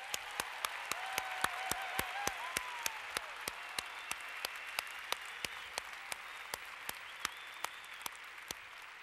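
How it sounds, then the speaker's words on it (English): Winter commencement audience at UW-Madison clapping for graduates, a distant, even sheet of applause from a large hall with a few crisp, regularly spaced claps standing out close by throughout. "let's start by giving everyone a round of applause."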